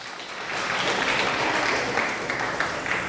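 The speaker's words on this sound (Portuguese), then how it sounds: "E as palmas glorificam a Deus." A church congregation applauds steadily, a dense continuous wash of many hands clapping, sustained and fairly loud throughout.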